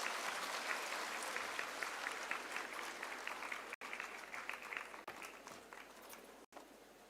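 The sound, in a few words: audience applause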